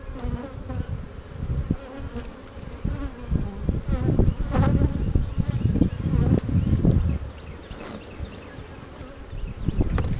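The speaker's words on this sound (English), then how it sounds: "Looking down, this is full of bees." Dense, steady buzzing of many honey bees close by at an open hive, swelling louder and softer with no voices.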